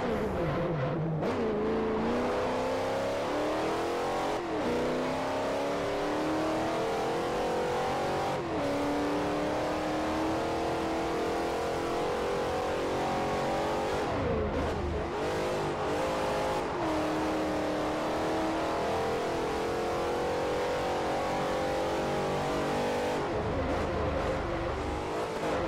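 8-cylinder GT race cars in Forza Motorsport 4 roar continuously, the engine note climbing through gears with repeated shifts and rev surges, loud and close throughout a long stretch of racing.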